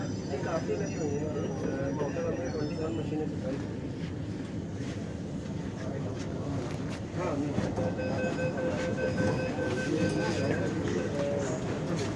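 A Delhi Metro train rumbles steadily along the tracks, loud and close, with rising electric motor whine and people talking over it.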